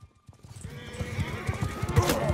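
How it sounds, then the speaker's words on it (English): Horse hooves clip-clop at a gallop during a melee charge in Mount & Blade 2: Bannerlord, a dense, continuous rhythmic pounding with a whinny rising out of the busy battle noise. "Bump him with the horse."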